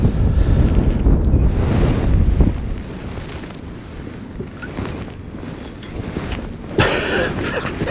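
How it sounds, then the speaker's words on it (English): Wind gusting loudly across a microphone on open water beside a winter feeder fishing venue, a heavy low roar that swells and eases with waves and water sounds, surging again near the end. "Oh, it's gusting again."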